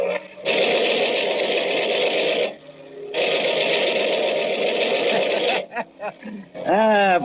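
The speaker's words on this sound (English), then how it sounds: "Give him, with my compliments, a salute from the machine gun." A machine gun fires at an aircraft as a sound effect in a 1940 radio drama: two long, dense rattling bursts separated by a brief pause, followed by a few short choppy bursts and a rising whine at the end.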